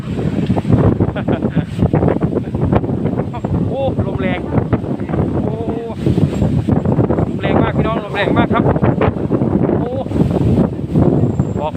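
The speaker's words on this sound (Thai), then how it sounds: "ลมแรงมาก ๆ เลยครับ" Strong wind buffets the microphone with heavy rushing noise while someone talks over it almost continuously.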